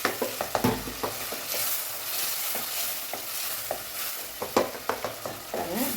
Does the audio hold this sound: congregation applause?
no